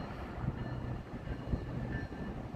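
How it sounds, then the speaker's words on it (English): A Metro Electric double-deck commuter train rolls along the tracks by Chicago's Museum Campus, a steady low rumble of wheels and cars with a few soft thumps over joints, moderately distant and continuous with no talk. "Here comes a Metro Electric there"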